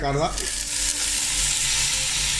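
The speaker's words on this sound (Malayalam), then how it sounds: "കിസ്മിസ് ഇട്ടതിന് ശേഷം നല്ല പോലെ ഒന്ന് ഇളക്കി കൊടുക്കുക" Raisins fry in hot ghee and are stirred for ghee rice, giving a loud, steady sizzle with a brief bubbling burst at the start, close and alone.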